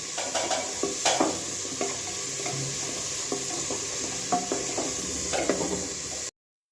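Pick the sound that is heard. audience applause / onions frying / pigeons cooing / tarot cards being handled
onions frying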